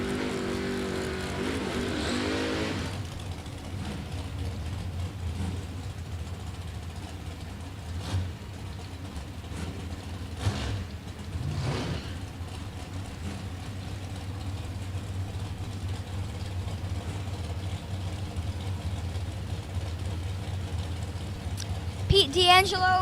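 Dragster and drag racing cars at a Tuesday time trial at the Galot drag strip during a 2025 spring event, with a steady distant engine drone, a few brief louder bursts, and a crowd or announcer chatter under it.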